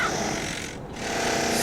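Drilling into a castle wall in the video game Black Mirror 3, a steady, loud, continuous mechanical rattle and buzz with a brief dip midway, heard alone with no talk.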